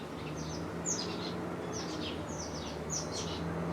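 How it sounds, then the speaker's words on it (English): Several birds chirp in short repeated bursts outdoors, moderately distant over a steady hum of background noise, with no talking. "I don't know if you can hear the beautiful sound of the birds"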